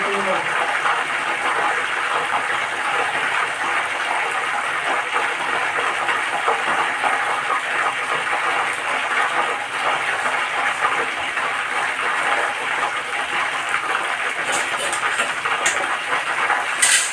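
Kara boondi batter sizzles steadily while deep-frying in hot oil, a dense continuous crackling hiss that stays loud and even throughout, with no pauses or quiet gaps.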